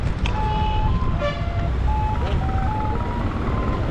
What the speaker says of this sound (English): Not a truck, ice cream tuk-tuk. It's in a tuk-tuk. And it makes this sound of like how we see in the cartoon.